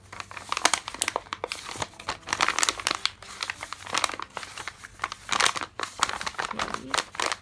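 Paper crinkling and crumpling as a colouring book page is scrunched by hand to wrinkle it, a steady run of close, crisp crackles in uneven bursts with short pauses.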